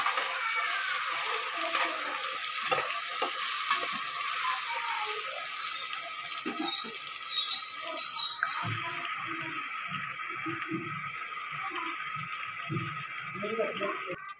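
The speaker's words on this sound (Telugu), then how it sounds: "అల్లం వెల్లుల్లి పేస్ట్ వేసుకోండి. ఇప్పుడు ఇది పచ్చివాసన పోయేదాకా ఫ్రై చేసుకోండి." Ginger garlic paste frying with onions in a pan on the stove, a steady close sizzle with crackling pops running throughout, while someone talks over it.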